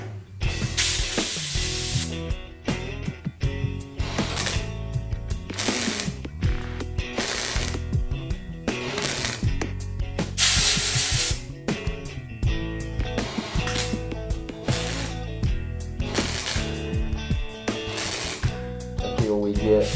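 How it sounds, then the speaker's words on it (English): Spot welds are laid down one after another on a patch panel for a 1957 fender, giving repeated bursts of crackling, hissing buzz that start and stop in an uneven rhythm, close and loud. "we just want to build off each one of our spot welds until we fully get it welded"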